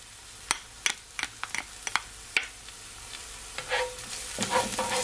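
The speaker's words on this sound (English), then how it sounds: "I just add my garlic" Garlic frying in a pan, with a steady sizzle and a run of sharp stirring clicks from a utensil, the sizzle swelling louder toward the end.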